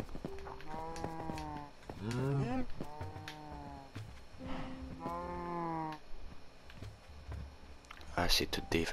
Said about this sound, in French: Ah, c'est toutes des vaches.